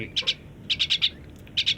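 A pet myna gives clusters of quick, bright chirps in bursts of two to four, close and clear with short pauses between.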